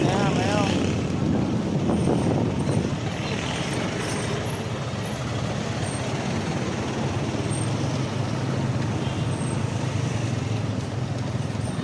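Road traffic with buses and cars at Pangandaran beach during the holiday, a loud continuous engine rumble from passing vehicles close by, with people talking at the start.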